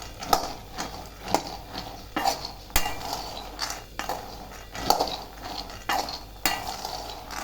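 Raw peanuts roasting in a thin kadhai over a full gas flame, stirred with a spatula in repeated scraping strokes roughly every second, with a light dry rattle and faint sizzle close by, no talking.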